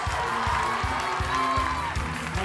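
A studio audience at a televised gala finale cheers and applauds the six finalists, a steady wash of crowd noise sitting under loud thumping music with no talking over it.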